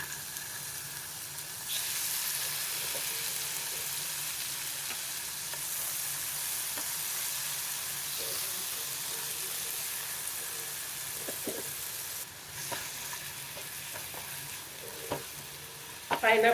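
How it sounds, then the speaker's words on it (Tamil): Pineapple pieces fry with cashews and raisins in a pan for pineapple kesari, a loud, steady sizzle with stirring running throughout and a few utensil clinks near the end. "முந்திரி திராட்சை வறுபட்ட உடனே கட் பண்ணி வச்சுருக்கிற"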